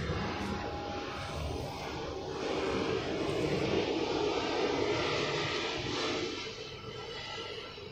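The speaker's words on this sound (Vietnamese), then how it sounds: "Nhà ở ngay cái luồng máy bay nó cất hạ cánh ấy, nên là cứ 10 phút có 1 chuyến" A fixed-wing airplane passes over a house near an airport's takeoff and landing path, its broad engine roar swelling in the middle and fading toward the end, steady and fairly loud with no talking.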